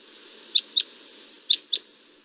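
Two pairs of short, dry, husky bird calls, each a quick up-down note, sounding fairly close against a faint background hiss.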